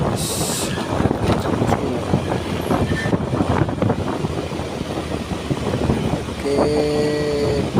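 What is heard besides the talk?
trailer trucks accelerating through a bend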